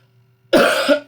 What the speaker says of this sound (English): I know this is going to make me cough